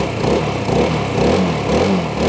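The single-cylinder engine of a 2022 Rieju MRT 125SM LC supermoto motorcycle runs steadily nearby, a buzzy, even drone with slight rhythmic pulsing and no talk over it.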